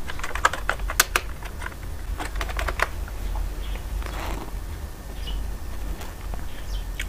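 Typing on a computer keyboard, a run of close, crisp key clicks in quick irregular bursts over a quiet background, without speech.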